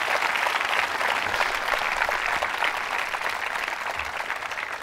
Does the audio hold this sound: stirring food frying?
no